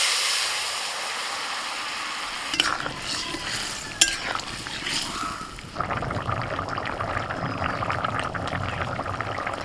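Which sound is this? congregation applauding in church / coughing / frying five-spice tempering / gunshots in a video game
frying five-spice tempering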